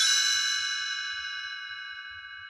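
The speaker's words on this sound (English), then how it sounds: "You will know it is time to turn the page when you hear the chimes ring like this." Page-turn chimes from a vintage read-along storybook record, a single bright bell-like ding that rings out clearly and decays slowly over a couple of seconds, alone with no speech.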